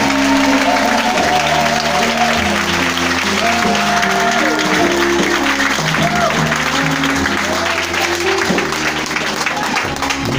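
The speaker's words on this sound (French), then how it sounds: "Acclame-le encore fort." A crowd at a Christmas 2020 religious seminar in Bregbo applauds and cheers continuously, a steady wash of clapping mixed with rhythmic music and voices for the full stretch.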